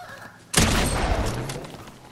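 Video game gunfire aimed at a llama: a sudden loud burst of shots erupts after half a second of quiet and then sustains as a dense, roaring barrage.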